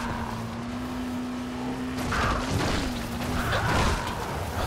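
A steady car engine drone in the video game Dying Light: The Following hums through the clip, shifting pitch slightly midway amid whooshing and clattering noises.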